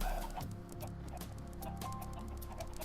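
Chickens clucking in a video game, kept in a central pen ringed by cascading water; steady soft clucks over a low ambient background, with no one speaking.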